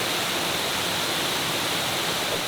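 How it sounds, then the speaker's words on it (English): The Cascade, a 45-foot single-tier horsetail waterfall near North Adams, Massachusetts, produces a steady, dense roar of falling water that stays unbroken and even throughout. "the Cascade is a 45-foot tall, one-tier horsetail waterfall"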